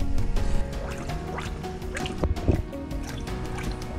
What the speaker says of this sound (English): it's bubbling a little more than I thought